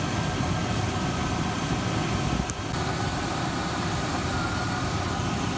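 A hot Rover SD1 engine idles steadily after a warm start, a close, even, low mechanical hum with a brief dip midway and no talk.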